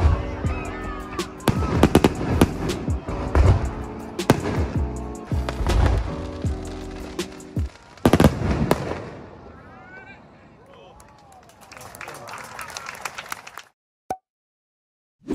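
Fireworks display in Spain on the night of arrival: dense booming bursts and crackling pops, loud and close, rolling in waves before thinning to sparse distant bangs and fading out.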